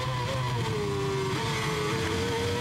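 A 2006 Formula 1 car's V8 engine screaming at high revs around Albert Park, a loud sustained whine with shifting pitch and steady roar, no talking.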